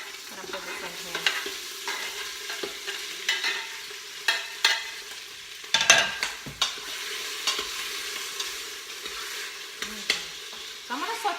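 Adobo-seasoned meat sizzles and fries in a pan, a steady close crackle broken by scraping stirs and occasional louder pops, with no talking.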